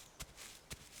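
Footsteps squelching across mud in the video game Memory Isle, two soft distinct steps about half a second apart over a steady ambient bed, fairly quiet.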